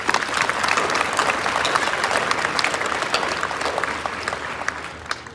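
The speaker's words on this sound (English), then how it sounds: "So big round of applause for our peer mentors." Audience applause for peer mentors at a cadet gathering: a dense, steady wash of many hands clapping that holds at an even level for the full stretch, with no voices standing out.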